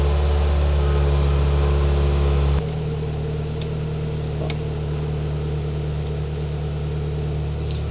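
A Toyota AE86 idles high with a steady, even drone that drops in pitch and level partway through, then holds a continuous hum with a few faint clicks, nearby and with no voices.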